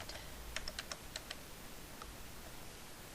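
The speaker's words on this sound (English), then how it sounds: "Hopefully this time my keyboard will respond" Computer keyboard keys are tapped in a quick irregular burst of crisp clicks, then one lone click follows after a pause, faint over a quiet hiss.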